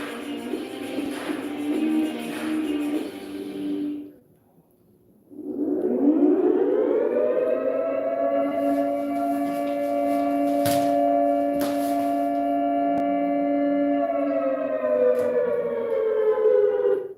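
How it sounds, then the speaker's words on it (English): A wailing nuclear air raid siren drops out briefly, then winds up again and holds a loud, steady rising-and-sustained tone for over ten seconds. "Nuclear themes for alarm sirens."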